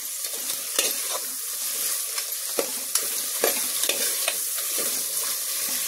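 Chicken curry with two tablespoons of coriander powder is stirred in a pan, with a steady frying sizzle and repeated sharp spoon clicks against the vessel at an uneven rhythm, close by and without talk.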